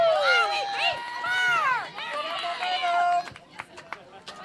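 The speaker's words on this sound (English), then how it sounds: "This crowd's going nuts" Spectators at a high school state softball game shout and shriek in loud, sustained, rising and falling cheers from a nearby crowd, then fade into scattered calls and noise.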